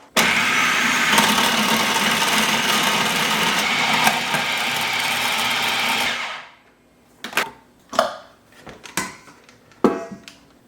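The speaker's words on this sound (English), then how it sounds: "Got the food processor set up." A food processor grinds raw chicken with a loud, continuous motor whir for about six seconds, then stops, followed by a few sharp clunks and knocks of the bowl and lid.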